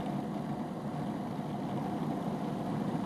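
A Cuisinart Elite Collection 14-cup food processor kneads yeast dough into a ball, giving a steady, even motor drone that runs unbroken the whole time with no one speaking.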